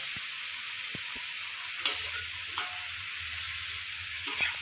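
Squid stir-fried with garlic chive flowers in a pan, a steady low sizzle with scraping stir strokes and occasional clinks, no talk.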